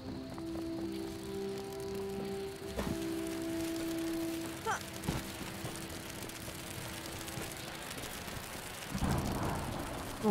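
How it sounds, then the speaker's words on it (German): Steady rain hiss with occasional low thunder rumbles in the Smalland video game, a continuous outdoor storm bed with a few distinct thumps and cracks, no voices. "Oh nein, es regnet gleich."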